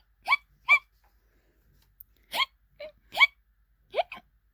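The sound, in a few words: voice imitating skeleton's hiccups in read-aloud book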